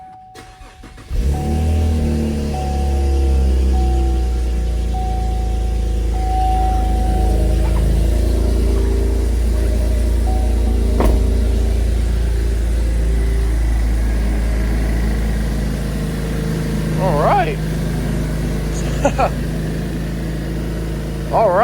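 A Cadillac ATS-V fitted with its factory exhaust fires up and settles into a steady, deep idle heard close in the garage, with a few faint clinks and brief talk near the end.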